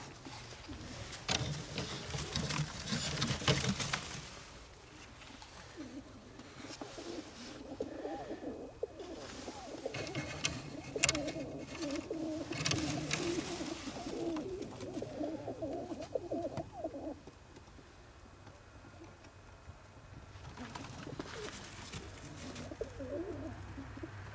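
Soft, low cooing of Budapest Highflyer pigeons repeating through the clip, quiet and nearby, with occasional rustling and scratches.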